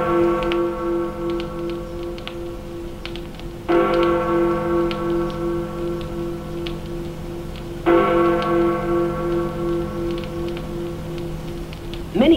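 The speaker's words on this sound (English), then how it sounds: "In England, there is a famous clock called Big Ben." London's Big Ben clock bell tolls three deep, ringing strikes about four seconds apart, each one humming on and fading slowly into the next.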